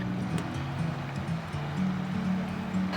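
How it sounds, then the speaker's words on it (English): River flowing past a campsite in the Yellowstone area, a steady rushing wash of water heard close and continuous, with no talk over it. "It's great that there's a river going right past the campsite here."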